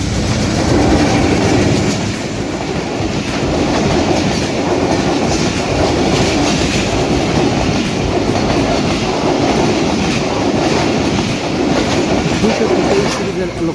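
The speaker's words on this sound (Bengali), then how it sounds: "733 আপ তিতুমির এক্সপ্রেস এই মুহূর্তে প্রবেশ করছে" The 733 Up Titumir Express passenger train rolls in at the Kanipur railway gate, loud and close, with steady rumbling and rhythmic clickety-clack of wheels over rail joints throughout.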